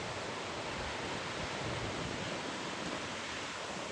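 Broadband, steady rushing of a large waterfall with water pouring down, continuous and fairly distant, with no voices heard.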